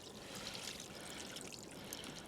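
Water is poured out during a fishing outing, a faint, steady trickling splash heard alone without speech.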